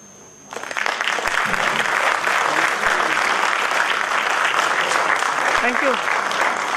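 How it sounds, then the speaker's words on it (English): Sustained audience applause at a speaking event, a dense wash of clapping that swells in after a brief quiet start and holds steady and loud, with a few voices audible underneath. "Can we give a loud round of applause again for Akansha?"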